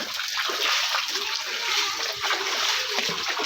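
Someone wades through rain floodwater filling a street in Muzaffarnagar, producing a continuous hiss of close splashing and sloshing water that stays fairly quiet and even.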